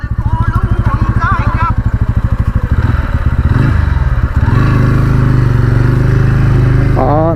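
A 2025 TVS Ronin 225 BS7 motorcycle engine runs close by, first a rapid regular idle thump, then revving up into a steady, loud drone that holds to the end.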